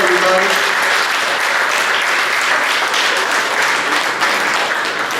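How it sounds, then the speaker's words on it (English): Big round of applause from a theater audience as a curtain opens, steady dense clapping held loud and close for the whole stretch. "the curtain opens to a big round of applause. Big round of applause, everybody."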